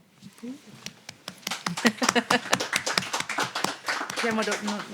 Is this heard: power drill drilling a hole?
no